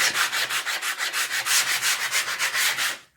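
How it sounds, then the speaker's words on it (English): A sanding block rubs over painted wood while prepping a sign for paint, making quick, steady back-and-forth rasping strokes, about five per second, close up and alone, then stopping abruptly. "So I'm just going to go ahead and sand"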